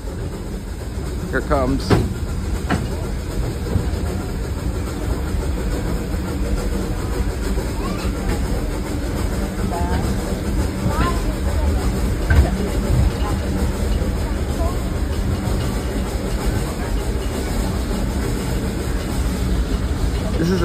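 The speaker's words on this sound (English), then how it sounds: "This is the loudest chug you'll hear." A narrow gauge steam train chugs hard up a steep mountain grade, its steady rumbling exhaust and clanking continuous and loud throughout, with a brief voice speaking over it and a faint high whistle-like tone in the background.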